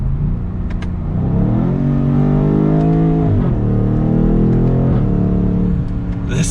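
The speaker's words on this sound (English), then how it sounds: "we have to put it back into Sport Plus, because as you already heard from those exhaust revs" A 2022 BMW M850i xDrive Gran Coupe in Sport Plus mode revs its exhaust loudly and close by, with the pitch climbing and falling in a couple of long sweeps over a deep, rumbling drone.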